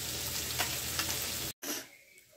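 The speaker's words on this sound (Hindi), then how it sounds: "तो यहाँ फिश को फ्राई किया जा रहा है।" Fish fries in a pan with a dense, close sizzle and faint stirring. After a short cut the sizzle continues more quietly and fades.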